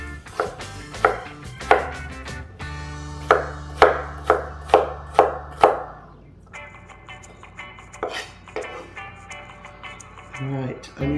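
A knife chops a white onion on a cutting board in a home kitchen, landing crisp, evenly spaced strikes close by, first fast and steady and then slower and sparser, while a voice speaks through the later part.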